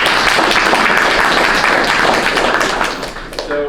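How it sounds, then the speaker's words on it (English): Audience at a Berkeley Forum speaker event gives a loud, close round of applause, dense clapping that holds steady and then thins out toward the end. "Give one more round of applause."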